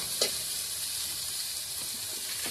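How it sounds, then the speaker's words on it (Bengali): Potatoes frying in oil with spices for a Bengali egg and paneer curry, giving a steady, soft sizzle with a faint clink near the start and no voices. "তেল মশলা দিয়ে আলুগুলো ভালো করে ভেজে এবারে জল দেবো"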